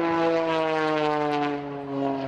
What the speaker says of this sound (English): Harnessing that horsepower from the American-built Lycoming engine.